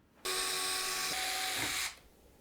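A power drill or electric screwdriver whirs steadily for about one and a half seconds, backing out a screw from the power supply shroud of an ASUS ROG Hyperion GR701 PC case, close and alone.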